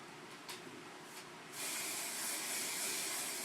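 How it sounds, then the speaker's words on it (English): French hairspray sprayed onto big teased hair, a steady close hiss starting midway and continuing to the end after quieter rustling. "Put some more French spray in there."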